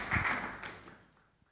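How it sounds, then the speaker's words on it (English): Audience applause at a conference, the Germany–Indonesia strategic dialogue, a short burst of clapping that starts loud and quickly thins out and fades over about a second and a half. "Please, a round of applause."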